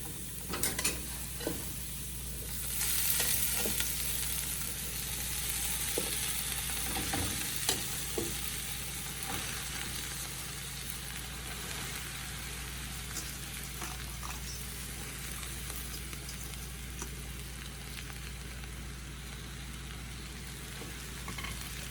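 Two bundles of taro leaves (bhaji) fry in a hot pot, a continuous close sizzle with occasional stirring scrapes and soft knocks, steady throughout.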